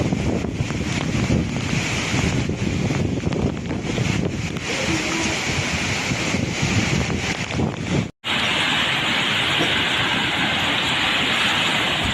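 Strong, roaring winds of Super Typhoon Uwan in the Philippines, sustained at 185 km/h, buffet the microphone over a steady wash of surf, continuous and loud throughout with a brief cut near the end.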